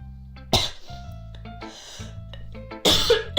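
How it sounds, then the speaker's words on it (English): A young man breaks into several harsh, close coughs, two loud bursts separated by a stretch of quieter throaty hacking and clearing, while a soft electronic music bed with sustained tones plays underneath. "Why the heck do I start coughing when I talk for too long?"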